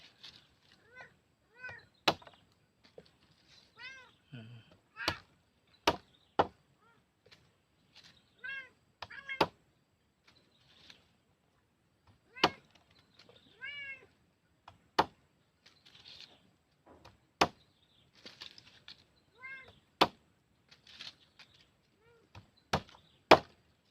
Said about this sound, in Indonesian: Ini kucingnya dekat terus kita nih.